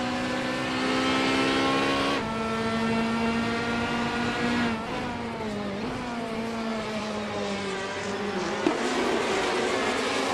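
Racing cars revving at the start of a race in a video game featuring the classic 1994 Ferrari F355 Challenge, a loud steady engine whine with rising and falling pitch as gears shift, no talk.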